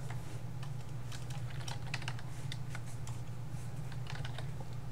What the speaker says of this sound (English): I'm literally typing it in the combat tracker where they're sitting